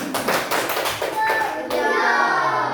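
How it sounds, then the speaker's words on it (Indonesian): Children clap together in a classroom, a loud, quick run of hand claps for about a second and a half that thins out and gives way to children's voices chattering. "Ayo beri tepuk tangan yang jujur."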